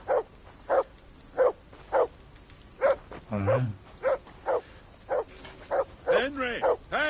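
A dog in Kingdom Come Deliverance II barks repeatedly and steadily, about a dozen loud, close barks at roughly half-second intervals, while someone speaks briefly between them.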